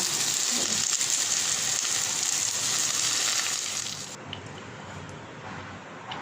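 Pumpkin pieces frying in oil, a loud steady crackling sizzle that drops to a quieter hiss near the end.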